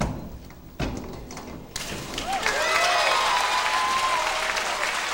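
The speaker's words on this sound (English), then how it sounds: "And a nice ovation from the crowd as well." Applause from the crowd at a 1994 boys' high school state swimming and diving final, swelling after a dive into sustained clapping across the hall, with a thud or two at the start.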